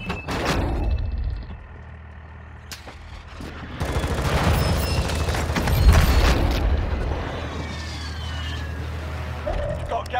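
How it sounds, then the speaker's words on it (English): Airstrike explosions and gunfire in the mobile shooter Warzone Mobile rumble and crack, with a rising loud barrage in the middle of the clip and radio-style voices over the battle. "Friendly airstrike in the AO."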